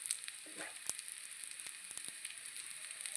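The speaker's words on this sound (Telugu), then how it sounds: "ఒక 2 మినిట్స్ ఇట్లా ఫ్రై చేసి స్టవ్ ఆఫ్ చేసేసి" Paneer frying in a pan gives a soft, steady sizzle with faint crackles and a few light clicks, quiet and close with no talking.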